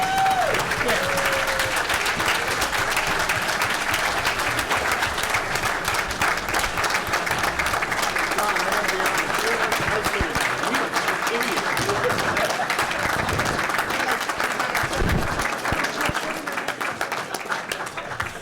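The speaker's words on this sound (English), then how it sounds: "let's give them a round of applause" Audience applause at a board of education meeting, sustained dense clapping from a crowd for the full stretch, loud and steady, with faint voices beneath it.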